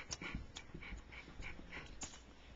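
A puppy close by, giving soft quick panting and faint whimpering snuffles in a steady rhythm across a quiet room, with no talk over it.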